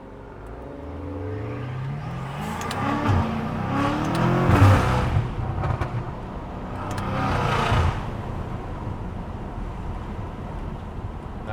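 A loud BMW M5 engine accelerates at half throttle from a roll, swelling in two big roaring revs around the middle and again later, heard from inside the car with steady road rumble beneath and no talking.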